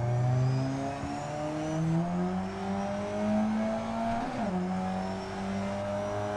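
A car engine in a street racing video game drones steadily with rising and falling revs, its harmonic whine climbing through gear pulls, close and continuous with no talk.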